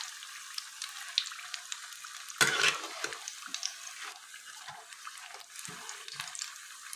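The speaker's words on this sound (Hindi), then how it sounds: "ये देखिए हमारे फ्राई होने लगे हैं।" Potato and carrot paper bread rolls fry in oil with a steady, soft sizzle, broken by a brief louder splash as they are turned or stirred, close up with no voices.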